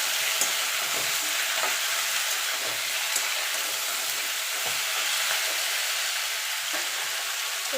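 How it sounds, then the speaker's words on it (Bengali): Drumstick and eggplant pieces fry in a pan for a vegetarian jhol while they are stirred, with a constant soft sizzle and occasional light scraping taps throughout. "ডাঁটাটা বেগুনটা দিয়ে আরও মিনিট খানিক নাড়াচাড়া করে নেব।"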